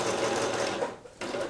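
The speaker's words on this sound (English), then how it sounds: "That noise is what my machine makes when I turn it on and it takes its first stitch." A sewing machine stitches elastic for a scrap-fabric scrunchie, producing a close, rapid mechanical whirring that dips briefly into a short pause and then resumes.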